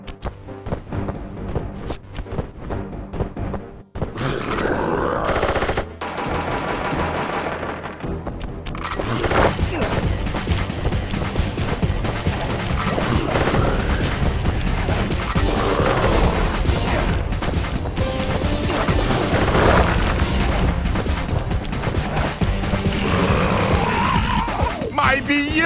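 In the Sly Cooper game a boss's gun fires in a dense barrage of blasts and impacts, then it is smashed apart. Loud crashes and booms pile into a continuous roar of destruction under game music.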